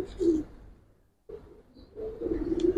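A big Giribaz pigeon coos close by in brief throaty bursts, separated by a short silent gap, then a longer rolling coo toward the end.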